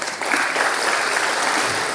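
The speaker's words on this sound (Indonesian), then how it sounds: "Pak, tepuk tangan dong Pak Budiarsa." A crowd at a government minister's housing talk bursts into applause, a dense wash of clapping that holds steady at full strength for a couple of seconds.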